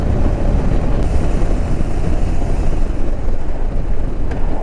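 A BMW R18 B motorcycle cruises in sixth gear at around 2,000 to 2,300 RPM, a loud, steady low rumble mixed with heavy wind roar, continuous and close with no talking.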